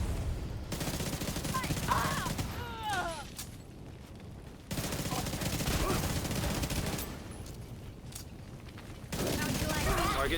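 A deployed turret fires in a video game, with rapid bursts of gunfire in blocks and a steady rattling volley under game sounds and some voices.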